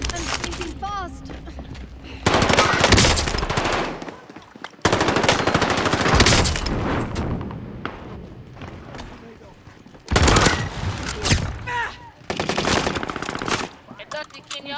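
Automatic gunfire bursts loud and close in a Call of Duty: Modern Warfare match, in long sustained volleys separated by brief lulls, with a voice calling out between bursts.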